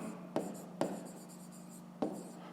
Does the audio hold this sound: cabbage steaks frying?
no